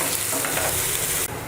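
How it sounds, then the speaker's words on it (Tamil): Sliced onion frying in a pan toward golden brown while being stirred, a loud continuous sizzle with scraping stir strokes, briefly dipping near the end. "ஸோ இதை வந்து நல்லா ஒரு கோல்டன் ப்ரௌனுக்கு ஃப்ரை பண்ணிக்கோங்க"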